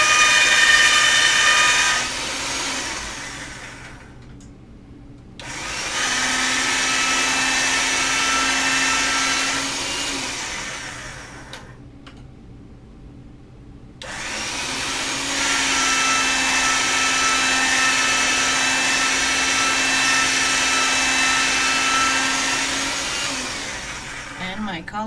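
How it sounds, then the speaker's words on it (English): A hand-cranked pasta machine rolling polymer clay, heard as two long stretches of steady whirring and grinding separated by brief pauses, with a faint hum underneath. "I'm going through the pasta machine on thick, and then I'm going to do another thin one"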